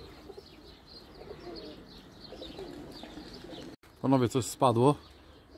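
Pigeons returning from a training flight coo in two close, throaty bursts near the end, following a stretch of outdoor background noise, with someone speaking briefly.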